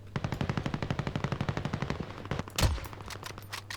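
Rapid automatic gunfire from a video game, in a match featuring the Kar98 rifle, rattles in a steady burst of about twenty shots over two seconds, followed by a single louder blast and a few scattered shots, loud and close.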